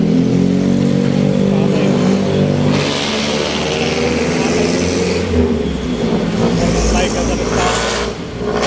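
Jeepney engine revving in Manila street traffic on Ramon Magsaysay Boulevard, Sta. Mesa, a steady loud mid-pitched drone that swells and accelerates, with voices chanting and talking over it.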